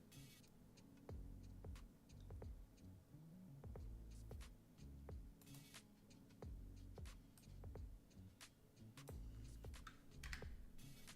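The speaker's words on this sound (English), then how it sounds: "the writing with this keyboard is kind of hard" Continuous typing on a computer keyboard during a live coding session, with dense irregular key clicks and occasional louder strikes at close range, no talking.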